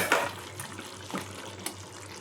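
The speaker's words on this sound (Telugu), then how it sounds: "ఇందులోకి హాఫ్ గ్లాస్ వాటర్ వేసుకొని కలుపుకుందాం." Half a glass of water is poured into chicken curry in a pot, making a brief splash followed by soft trickling and liquid sloshing, fairly quiet and close, with a couple of small splashes later.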